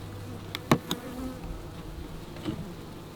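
Honeybees buzz in a steady low drone at an open hive in autumn, with drones present among the workers, and a few brief louder clicks and knocks cut in close by.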